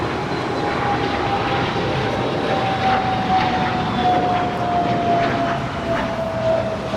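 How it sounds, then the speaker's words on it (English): A United Airlines Boeing 757-200 arriving from JFK at LAX roars steadily overhead, a loud continuous jet rumble with a slowly falling whine, heard close and alone. "we just had United Airlines 515 coming in from JFK. It's a 757-200"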